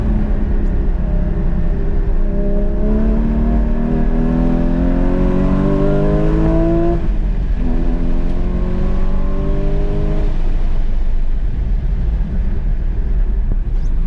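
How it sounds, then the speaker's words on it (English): A Porsche GT4 981 accelerates hard on an autocross course, its engine climbing through the revs twice with a rising, rasping tone and some wheel spin, loud and close throughout. "Quite a bit of wheel spin."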